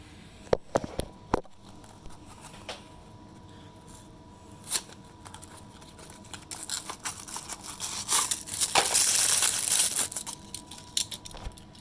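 Diecast toy car card packaging being torn and opened close up, with sharp crinkles, snaps and a sustained burst of plastic rustling.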